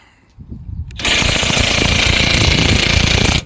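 Impact wrench hammering at the top mount bolts of a Subaru Forester's coilover, a short sputter then a loud, continuous rapid rattling burst lasting over two seconds before cutting off.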